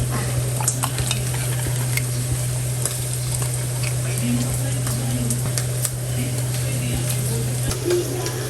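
Fresh fish frying in a pan, a steady sizzle with scattered clinks and stirring taps of utensils, close and continuous under a low hum.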